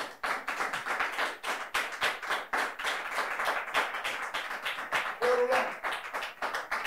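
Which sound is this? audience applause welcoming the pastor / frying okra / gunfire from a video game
audience applause welcoming the pastor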